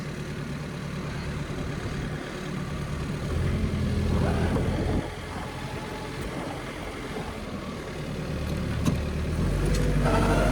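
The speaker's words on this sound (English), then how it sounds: "Car coming." A car passes along a snowy residential street while a lawn tractor idles nearby for snow plowing; the engine rumble swells and fades at moderate distance, with steady low motor hum throughout.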